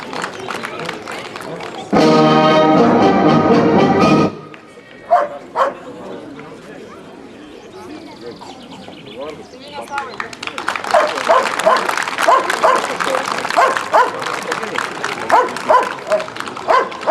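Service dogs bark at an international working-dog championship, the barks rising amid an outdoor event ambience with a loud sustained burst early on and people talking nearby.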